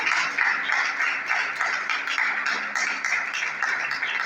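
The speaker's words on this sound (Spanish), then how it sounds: "Dale un fuerte aplauso al Señor." Strong rhythmic clapping from a church youth meeting congregation, hands striking together in a steady, fairly quick beat, loud and close, continuing for several seconds with no talking over it.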